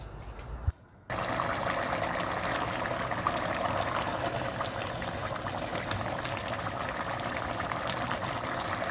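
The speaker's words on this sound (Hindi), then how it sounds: "और पानी जब एक बॉयल आ जाएगा तो अब इसमें ये मैं राइस डाल रही हूँ।" Rice tipped into a pot of boiling water for chicken pulao; a steady, close bubbling and watery rush fills the whole stretch after a brief drop to near silence at the start.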